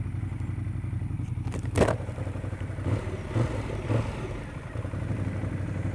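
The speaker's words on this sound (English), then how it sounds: "Sounds great. It's a stock exhaust." A 2014 Ducati Monster 1200 engine with stock exhaust rumbles steadily and close by, its low drone broken by a few brief clattering knocks, with no one talking.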